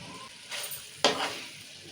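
Chicken biryani masala mixed with coconut powder being stirred in a pot, with a soft sizzle and a couple of short scraping strokes close by, quiet overall.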